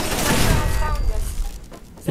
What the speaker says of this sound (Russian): Ощутим на себе выстрелы в спину.